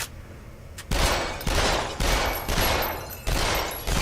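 Gunfire in the VR shooter game Lethal VR: a burst of about six loud, sharp shots at uneven intervals, each with a short ringing tail, after a quieter opening moment.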